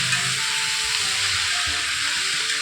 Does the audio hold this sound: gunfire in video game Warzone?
no